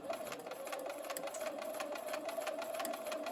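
A sewing machine stitches quilt patches for a triangle four-patch star quilt, its steady rapid needle whir continuing evenly and close at moderate loudness throughout, with no talking.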